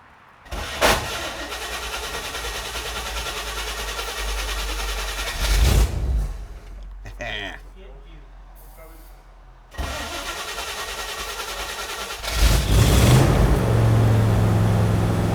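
A 1960 El Camino's small-block V8, long unused, cranks and fires, then idles with a rough steady rumble, gets shut off, and restarts with a louder rev near the end; someone talks in between.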